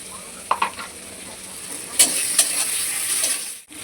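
Tomatoes seasoned with salt and turmeric fry in a pan with a steady hiss, broken by a few short scraping stirs and clinks of a utensil close by; no one talks.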